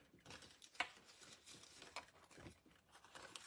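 Die-cut paper flowers are pressed out of a paper sheet at a crafting table, with soft crinkles, small tearing pops and papery rustles at close range.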